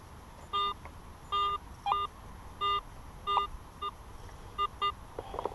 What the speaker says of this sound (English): So we'll try the metal detector.